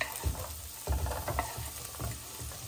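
Chopped onion sizzling in a hot pan just after being added, with a bright frying hiss and a few soft thumps and scrapes as it settles and gets stirred.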